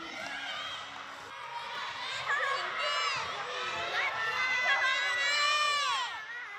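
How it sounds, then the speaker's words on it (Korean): Schoolchildren shout and cheer loudly during a third-grade class obstacle race on the school field, a continuous dense crowd of high young voices with rising and falling calls, steady throughout. "지켜보는 아이들은 목청껏 화이팅을 외치며 힘을 실어줍니다."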